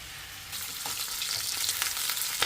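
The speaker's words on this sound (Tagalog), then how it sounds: "igigisa rin natin dito yung bawang at sibuyas" Garlic and onion sautéing in hot oil, a steady close crackling sizzle that swells after a quiet start, with a few stirring scrapes, for a pork dish.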